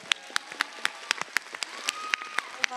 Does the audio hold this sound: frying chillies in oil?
no